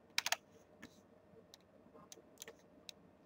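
A few scattered computer keyboard key presses, a quick cluster of clicks near the start followed by sparse single taps, soft and close against a quiet room.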